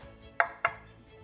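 Two sharp knife chops on a cutting board slicing onion and potatoes, close and crisp, with a short gap between them and quiet around.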